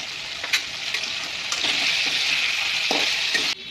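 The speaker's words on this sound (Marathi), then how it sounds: "आपली वाम आता हळदीमध्ये परतून झाली" Ribbonfish pieces fry with turmeric in hot oil in a pan, giving a continuous loud sizzle punctuated by several sharp scraping clicks as a spatula turns them.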